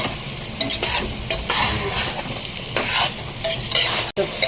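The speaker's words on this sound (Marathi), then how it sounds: "तर चांगलं फास्ट गॅसवर त्याला 2 मिनिटं परतून घेऊया." Spiced brinjal stir-frying in oil over a high flame, a loud dense sizzle with repeated scraping strokes of a spatula and no talking.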